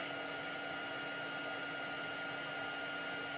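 An embossing heat tool blows hot air in a steady, even whoosh with a faint whine, loud and unbroken, with no voices.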